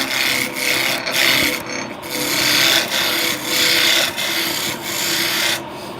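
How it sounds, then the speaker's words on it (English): Wood being turned on a running lathe, a continuous rasping, scraping cut with rhythmic pulses as the tool works the spinning piece, close and fairly loud. "not stopping the lathe like that"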